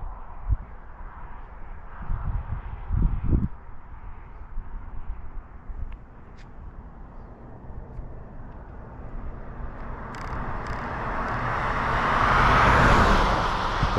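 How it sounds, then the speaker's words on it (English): Cars pass along a road in traffic as a low, steady roadway rumble, with a few dull thumps early on, then one vehicle swells louder as it approaches and passes close by near the end. "It's like traffic, car after car."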